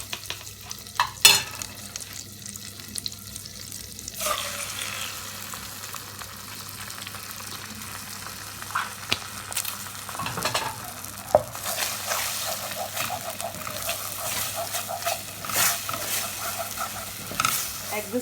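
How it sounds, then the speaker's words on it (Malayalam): Beaten eggs scramble in half a teaspoon of butter in a preheated pan, a continuous close sizzle with spatula scrapes and taps throughout, some sharper clinks early on. "നേരത്തെ ചൂടാക്കിയ ആ പാനിൽ തന്നെ കുറച്ച് ഒരു 1/2 ടീസ്പൂണോളം ബട്ടർ ഇട്ട് കൊടുത്തിട്ട് നമുക്ക് ഈ മുട്ടയൊന്ന് സ്ക്രാമ്പിൾ ചെയ്തെടുക്കാം"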